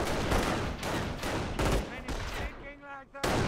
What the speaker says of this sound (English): Cops are firing on us!